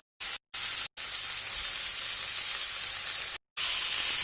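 Cooked rice tipped into a hot stir-fry pan with salt and aromatics sizzles loudly and steadily in a bright, hissing wash, broken by a few brief pauses with no talking.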